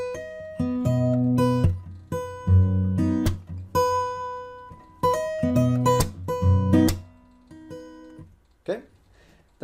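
An acoustic guitar plays a fingerstyle arrangement, mixing ringing plucked notes and chords with percussive body slaps in a steady, repeating pattern, close and clear.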